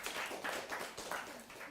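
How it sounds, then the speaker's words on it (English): Audience applause at a live economic outlook forum in Ghana, a steady, dense patter of many hands clapping at close range, continuous for the length of the clip with slight swells in loudness. "a round of applause for Joseph Paddy as well"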